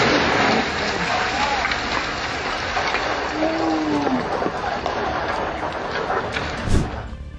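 Rain falling on a road, a dense, continuous hiss of drops and spray filling the scene at steady loudness, with a faint passing vehicle tone underneath.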